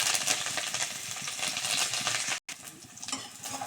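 Garlic, onion and curry leaves frying in hot oil for a tempering, with mustard seeds, a continuous dense sizzle with stirring scrapes and a brief break near the end; no speech.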